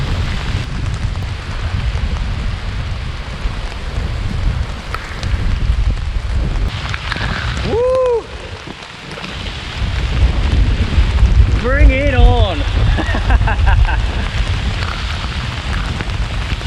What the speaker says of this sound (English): Now that is some rain.